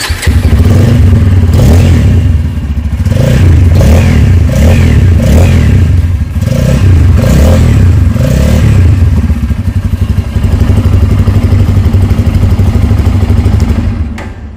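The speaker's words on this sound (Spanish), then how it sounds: "Vamos a escuchar un poco del tema del escape." A Bajaj Pulsar N250 motorcycle's exhaust revs loudly and up close in a series of repeated throttle blips over a steady idle, with clattering mechanical noise between revs.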